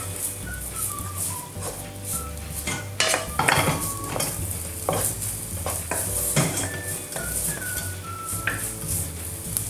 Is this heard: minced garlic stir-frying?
yes